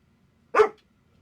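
A single short, sharp dog bark rings out once, fairly close, against an otherwise quiet background.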